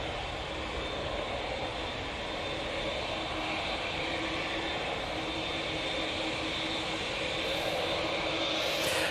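An unidentified aircraft passes at Manchester Airport, a steady broad roar of engine noise holding level for several seconds and swelling slightly toward the end, with no talk over it.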